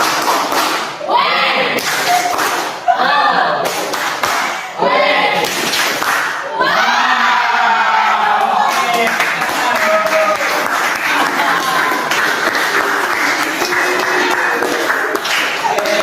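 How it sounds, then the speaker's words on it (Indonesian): A group of people performs a rhythmic clapping game together in a counseling group session, with bursts of synchronized claps and thumps repeating for several seconds before breaking into longer mixed clapping and voices. "kita lakukan tepuk wow bersama-sama"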